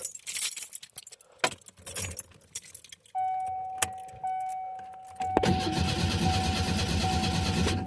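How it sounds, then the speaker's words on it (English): Keys jangle at the ignition of a 1987 Ford Thunderbird Turbo Coupe with a fuel problem, then its engine cranks steadily without catching, a chime ringing over the cranking. "She just cranks, and I don't hear any fuel pump whatsoever"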